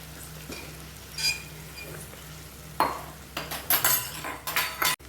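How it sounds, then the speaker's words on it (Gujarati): Three medium potatoes tumble into a pan of aloo methi, giving scattered clinks and scraping knocks of a utensil against the cookware, with a faint sizzle beneath and bursts of clatter toward the end. "મેં 3 મીડિયમ બટેટા લીધા છે, એ એડ કરશું આપણે"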